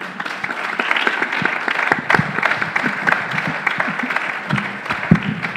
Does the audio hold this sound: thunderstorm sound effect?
no